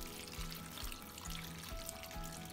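Water is poured into a small crock pot of beef tallow fat for wet rendering, a faint, steady trickle and splash that continues throughout with no talking.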